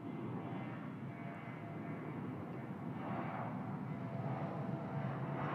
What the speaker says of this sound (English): Myanmar 737 on the roll now